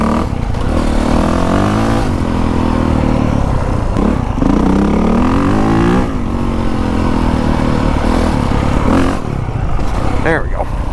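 A new 450 dirt bike is ridden hard, its engine revving and dropping in repeated surges with chain clatter underneath. The bike sounds loud and close while a rider talks over it.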